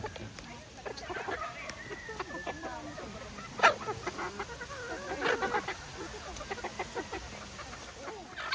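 Pullets and hens clucking in a pen on a Filipino poultry farm, with overlapping soft clucks and calls at varied distances, one louder call partway through, under a person talking nearby.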